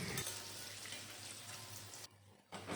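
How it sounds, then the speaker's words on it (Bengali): Banana flower fritters frying in a generous amount of hot oil in a kadai, a steady close sizzle and bubbling that runs almost continuously, dropping out briefly near the end before resuming. "একইভাবে আমি সব বড়াগুলো ভেজে নেব।"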